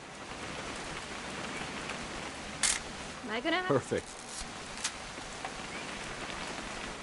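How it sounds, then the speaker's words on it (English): Steady rain from the video game What Remains of Edith Finch hisses throughout as a continuous wash, with a short burst of speech from a voice in the middle. "It's gonna rain the whole weekend, isn't it?"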